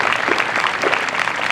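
Steady applause from an audience in the stands at an Air Force basic military training parade, a dense uniform clatter of many hands clapping together, fairly loud and continuous throughout with no voices over it.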